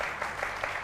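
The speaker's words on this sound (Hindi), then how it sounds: "नुसरत के लिए बहुत सारी तालियां बजाइए" Studio audience applause for a contestant on a Hindi TV show, a steady dense clapping wash with slight swells, brief and continuous.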